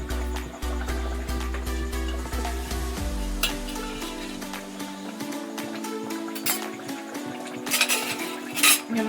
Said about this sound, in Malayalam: ഇനി നമുക്ക് മീനൊന്ന് തിരിച്ചിട്ട് കൊടുക്കാം